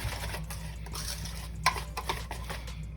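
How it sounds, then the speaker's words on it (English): A whisk beats a peanut butter ice cream base in a bowl, giving rapid rhythmic clicking and scraping against a low steady hum, with one sharper clink partway through. "Add salt, pinch of it, and whisk that in."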